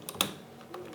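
A few quick keystrokes on a computer keyboard, faint and close, with a couple of distinct clicks spread over about a second and no voice.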